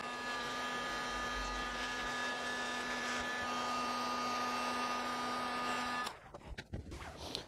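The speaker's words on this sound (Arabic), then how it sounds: "خذ مجفف الشعر بهاي الطريقة تنشفها بشكل جيد" A hair dryer blows steadily on a laptop cooling fan, a constant whirring hum with a tonal whine, up close, that shuts off near the end, leaving faint handling clatter.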